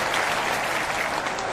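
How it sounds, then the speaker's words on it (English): Applause from a livestream audience during a holiday retro game playthrough, a dense, steady wash of clapping that holds at an even level for the whole moment without any talk. "give yourselves a round of applause"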